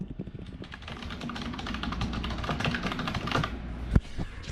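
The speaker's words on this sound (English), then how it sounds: "I'm gonna type it in real quick" Rapid, close typing on a computer keyboard as a search is entered, a busy run of clicking keystrokes with a sharper key press near the end.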